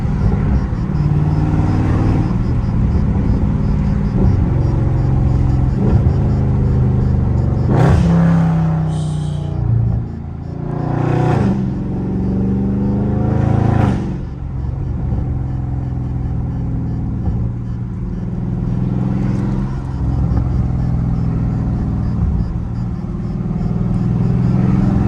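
A Dodge Scat Pack engine rumbles and revs while driving in rush-hour traffic, a loud close-up low growl with several sharp throttle surges rising and falling.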